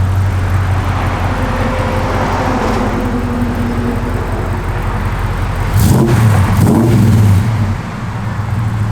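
A 1969 Ford F100 pickup engine idles steadily nearby, then revs up in a short burst around the middle before settling back, with no talk over it.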